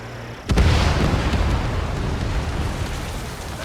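An enemy bomber blows up in Ace Combat 7 with a sudden loud blast, then a long rumbling, crackling roar that slowly fades.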